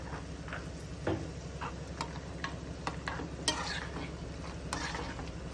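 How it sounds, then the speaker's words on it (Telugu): Dried kura vadiyalu, lentil fritters, fry in hot oil with a steady sizzle and scattered crackles, plus a few light taps of a utensil as they are stirred. "ఎండిపోయినాక నూనెలో వేసి కూరవడియాలు వేయిస్తున్నాను"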